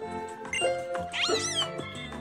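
A Litten, a cat-like Pokémon in Pokémon Sun, lets out a few rising and falling meows and cries, close and clear, with no talking.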